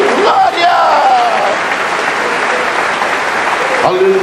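A church congregation applauding, a dense broad wash of clapping that fills the clip and stays loud, with a voice briefly audible at the start and near the end.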